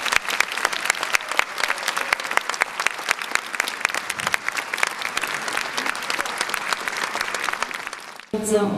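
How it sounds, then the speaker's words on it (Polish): Loud, sustained audience applause at a Polish political women's assembly, dense clapping filling the room for about eight seconds before breaking off abruptly near the end. "Jeszcze raz brawa dla naszej"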